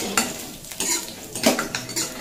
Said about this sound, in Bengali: জিরে আর সর্ষে খুব ভালোভাবে ভাজা হয়ে গেছে, এরপর আমি দিয়ে দিচ্ছি কয়েকটা কারি পাতা